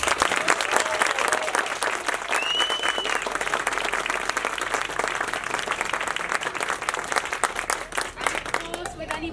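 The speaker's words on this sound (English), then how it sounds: "Let's give them another round of applause." Audience applause fills the hall after a reception class's school assembly performance, steady dense clapping throughout with a few raised voices and cheers mixed in.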